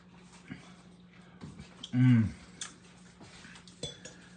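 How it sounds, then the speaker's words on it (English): A little spoon clinks against a tea cup of Russian tea, a short bright ringing burst of metal on ceramic near the middle, with faint kitchen handling sounds around it. "I'll get this little spoon out and let it cool."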